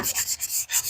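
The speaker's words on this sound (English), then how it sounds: "this cheap Harbor Freight sandpaper is some good stuff" Cheap Harbor Freight sandpaper is rubbed by hand in fast back-and-forth strokes, a close, raspy scratching that rises and falls about eight times in one second, with no talking.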